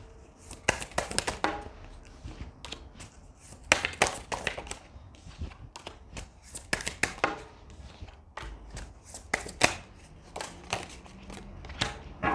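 Tarot cards are shuffled with crisp, irregular riffling taps and soft slaps, close up, in bursts with brief pauses between.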